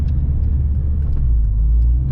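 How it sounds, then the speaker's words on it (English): Honda Integra DC5, about 20 years old, steady deep exhaust and engine rumble while driving, a continuous low drone with no talk over it. "The exhaust ain't too bad, it's not too drony."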